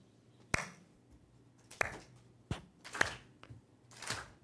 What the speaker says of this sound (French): Je vais taper dans mes mains et vous allez suivre mon rythme.